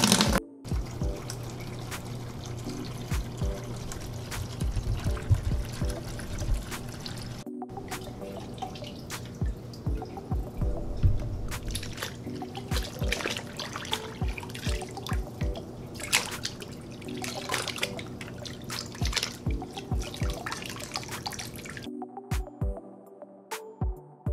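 Water pours and drips steadily during saltwater aquarium care for a Moorish Idol, a continuous trickle with frequent distinct drops, close and fairly constant, with a brief break partway through and near the end.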